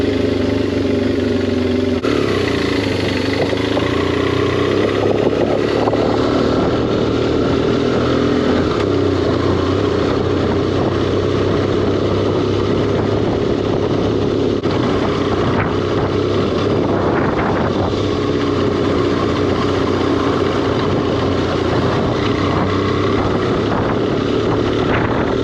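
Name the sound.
2009 BMW F800S motorcycle engine running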